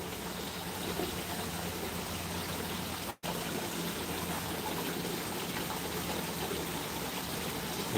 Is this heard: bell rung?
no